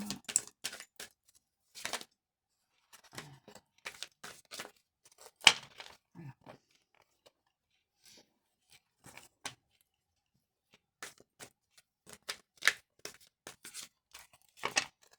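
A deck of picture-word cards being shuffled by hand: bursts of crisp riffling and flicking card noise come in quick clusters, separated by short quiet gaps, close and fairly soft, with no one talking.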